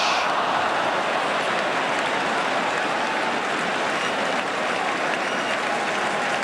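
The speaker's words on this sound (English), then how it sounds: "applause all around the ground for that Luton Town move" A football crowd applauds around the ground at a Luton Town v Aston Villa match, a dense, steady wash of many hands clapping at even loudness throughout, with no clear voices.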